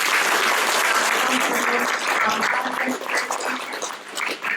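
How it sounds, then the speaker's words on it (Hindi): Audience applause in a hall after a talk on mental stress, a dense, loud wash of many clapping hands that eases slightly toward the end, with faint voices beneath. "तो हम फिर से जोरदार तालियों के साथ"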